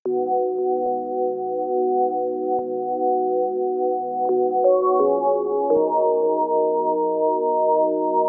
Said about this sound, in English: Nice little pad in the background